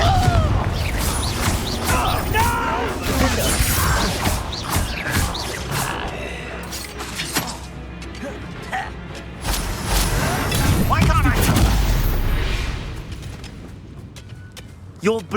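Confringo fire-blast spells explode amid a fight in Hogwarts Legacy, several loud bursts and crashes with rumbling and debris-like clatter, swelling and fading across the stretch, with voices shouting over the fighting.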